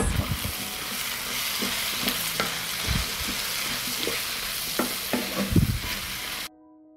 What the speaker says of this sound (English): I fry leeks in the same fat. And mushrooms. I will stir and fry for 5 minutes.